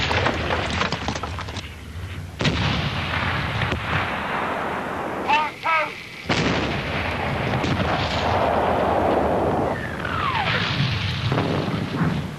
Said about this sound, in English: The first stage of the plan was to pound the German line for 7 days with the biggest artillery barrage of the war so far.